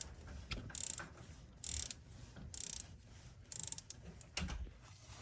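A socket wrench ratchets on bolts during a clutch job on an 8th-gen Honda Civic Si, producing about five short, quick clicking bursts separated by brief pauses, close but fairly quiet.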